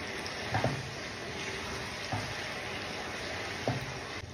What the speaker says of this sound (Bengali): আজকে নাড়াচাড়া করে দিই।